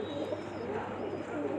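A pigeon perched on a rooftop pigeon loft cooing softly in low, throaty rolls against a steady background hum.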